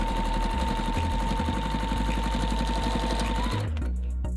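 Sewing machine stitching flange binding onto a quilt, a fast steady mechanical needle rhythm with motor hum, loud and close, stopping abruptly near the end with no talk.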